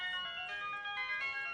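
A phone ringtone plays steadily and fairly clearly during a movie phone-call scene, a sustained melodic electronic ring with no speech over it.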